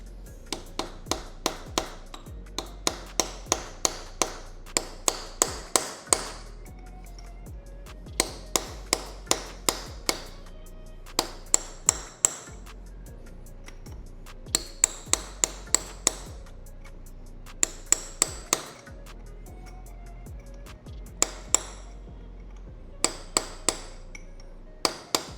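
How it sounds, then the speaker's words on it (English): Sharp metallic hammer blows on a small chisel bending a lock washer tab during a front sprocket install on a Kawasaki Eliminator motorcycle, struck in quick bursts of several taps separated by short pauses, close and clear. "I'm gonna use like a little chisel and a hammer to bend that up"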